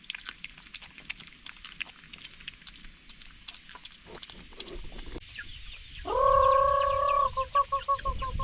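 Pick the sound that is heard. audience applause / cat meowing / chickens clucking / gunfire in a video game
chickens clucking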